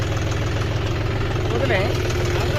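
A tractor engine idles and churns steadily in a field being ploughed for a rice nursery bed, a low continuous rumble with mid-range knocking that holds constant throughout, while voices talk and shout over it.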